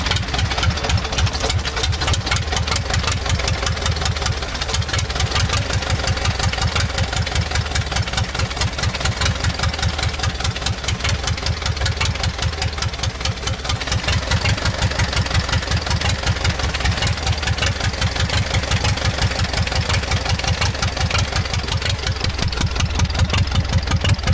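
A D-240 diesel engine fitted in a ZIL truck runs without revving up, a loud, close, steady rapid clatter with a deep knocking rumble that keeps an even rhythm throughout.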